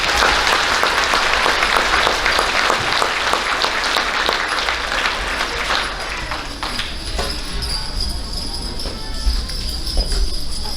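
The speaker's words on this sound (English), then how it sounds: "Please give a large round of applause for these two." An audience in an elementary school awards ceremony claps loudly and steadily, the dense applause thinning slightly toward the end.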